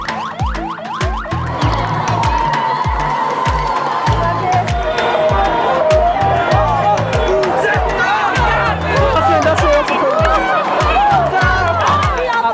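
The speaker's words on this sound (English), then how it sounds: "greeted by a warm and enthusiastic crowd" A loud, enthusiastic street crowd greets the returning president of Somaliland, with continuous cheering and hubbub mixed with blaring horns and siren-like wails throughout.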